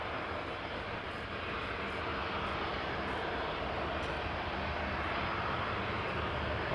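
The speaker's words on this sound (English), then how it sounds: "A320 Neo going to London Heathrow, approaching from the left." An Airbus A320neo approaches Schiphol Airport in Amsterdam, its engine roar a steady, moderately loud wash that builds slightly over several seconds without talk.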